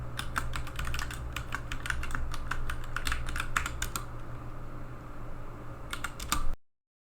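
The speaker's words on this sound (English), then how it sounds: "type in this command. Go ahead and hit enter." Rapid clicking keystrokes on a computer keyboard as a command is typed into a terminal, close and clear, in quick irregular bursts with a short pause before a final few taps.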